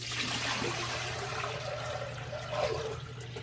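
Water is poured out of a shaving basin, a soft splashing gush over a low steady hum, quiet and close with no talking.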